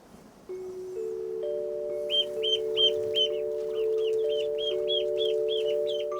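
Young chickens in a poultry hut on a working Victorian-style farm give a run of short, repeated calls over a steady hum, moderately close and continuing throughout with no talk.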